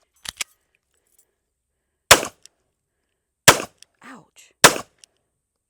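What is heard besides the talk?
gunshots from Smith & Wesson Bodyguard 2.0 .380 pistol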